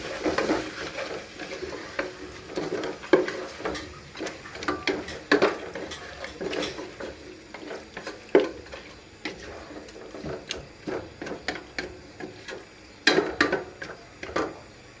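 Meat sizzles in a pan with spices as it is fried for pulao, with frequent clattering spatula strokes and scrapes against the metal over a continuous frying hiss, close up and uneven in rhythm.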